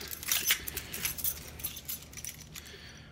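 A bunch of car keys jangles and clinks in several quick shakes, close by and fairly quiet, with no talking.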